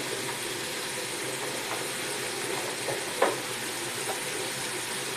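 Tomato, chili paste and ginger paste fry in a pan with a constant, even hiss of sizzling oil. A faint scrape or stir comes now and then.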